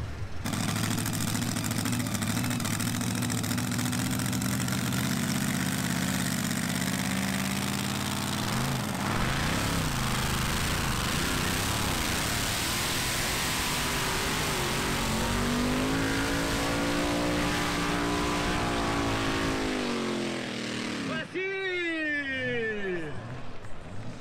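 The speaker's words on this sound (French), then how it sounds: "on rentre le tracteur" Tractor engine running loud and close, a steady heavy drone that shifts pitch and revs as the machine is driven in, ending with a whining descending tone as it slows near the end.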